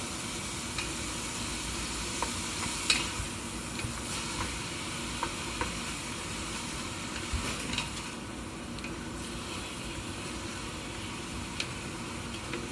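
Seafood for gumbo frying in a pot, a steady soft sizzle with occasional light clicks and ticks from stirring, alone and fairly quiet throughout.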